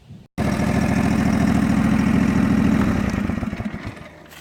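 A John Deere 445 tractor's engine kicks in after a brief silence and runs with a loud, close, clattering drone that eases and fades toward the end.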